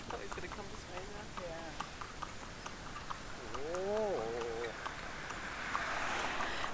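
Horse walking on a village road while being driven, hooves clip-clopping in a steady light rhythm at moderate distance, with a bleating sheep call in the middle and wind rising toward the end.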